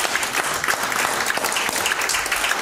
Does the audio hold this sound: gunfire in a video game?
no